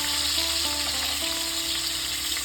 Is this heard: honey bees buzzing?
no